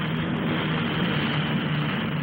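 The Fairey Rotodyne compound gyroplane flies at the 1958 Farnborough air show, a loud continuous engine and rotor roar holding steady and close with no pauses.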